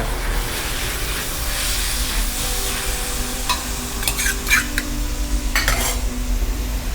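Minced beef stir-fried in a hot pan for pad kaprao with sataw beans, a steady loud sizzle broken by scraping and clinking of a spatula against the pan, close up.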